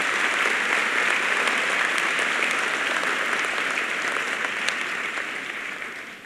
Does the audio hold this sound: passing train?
no